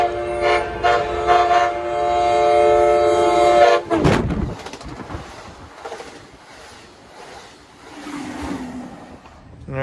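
Amtrak train rushing past at speed at the Grand Avenue grade crossing in Carlsbad Village, a loud blaring horn giving way to a roaring, rattling wheel rumble that fades as it goes by.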